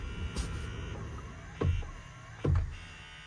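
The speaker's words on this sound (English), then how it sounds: "So it actually went and shifted the shifter back into park." The shifter of a 2024 Ford F-150 Single Cab Coyote V8 moves itself back into park after the key is turned off, two distinct mechanical clunks over a quiet cabin hum.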